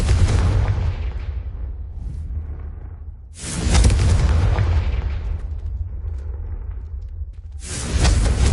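A Confringo blasting spell explodes in the video game Hogwarts Legacy: three heavy booming blasts, each opening with a sharp crack and then rolling into a long rumbling tail, loud and close.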